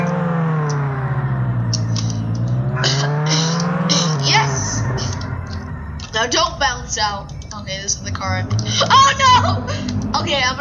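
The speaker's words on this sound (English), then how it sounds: "And drift!" A car drifts in Roblox Jailbreak, a video game: a droning engine rises and falls, then gives way to choppy, squealing tire skids, with a person talking excitedly over it.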